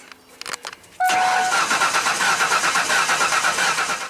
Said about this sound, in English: I'm just going to crank this over now